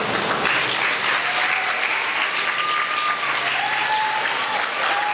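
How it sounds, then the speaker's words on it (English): A crowd at a primary school performance competition applauds steadily and loudly, dense clapping filling the whole stretch with faint whistles or cheers above it. "Let's give another round of applause."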